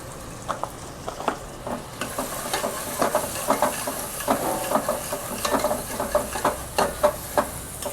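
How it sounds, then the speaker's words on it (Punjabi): A tempering of spices and green chillies sizzles in hot oil for Punjabi chana dal, a steady frying hiss broken by repeated sharp clinks and scrapes of a spoon stirring in the pan, moderately close. "ਆ ਦੇਖੋ ਤੜਕਾ ਭੁੱਜ ਗਿਆ ਬਹੁਤ ਵਧੀਆ"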